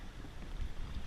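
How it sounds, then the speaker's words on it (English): Wind on open water buffets a small sailboat, a brief, steady low rumble with gusty microphone roar throughout and no speech. "it's more open body of water, so I'm getting more wind out here"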